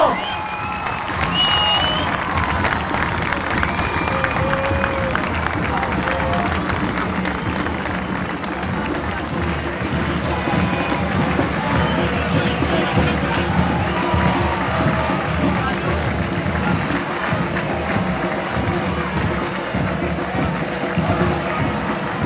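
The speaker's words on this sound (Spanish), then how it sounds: "Fuerte el aplauso para la vicegobernadora Verónica Magario y el gobernador" A large crowd at a governor's inauguration in Buenos Aires province applauds and cheers in a sustained roar, with voices and shouts mixed through the din.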